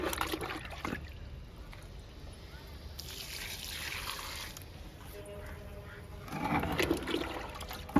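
Liquid fertilizer is poured onto hibiscus plants in a garden, giving a soft, continuous trickling splash that swells into a louder gush toward the end.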